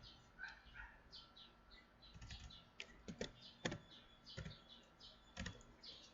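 Typing on a computer keyboard: faint, irregular key clicks and taps, some in quick clusters, with a few sharper keystrokes standing out against a quiet room.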